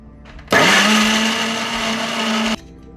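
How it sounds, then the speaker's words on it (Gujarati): A kitchen mixer grinder whirs loudly for about two seconds as it grinds cashews, starting abruptly, holding a steady motor whine, then cutting off. "હવે આ કાજુને આપણે મિક્સરમાં પીસી લઈએ."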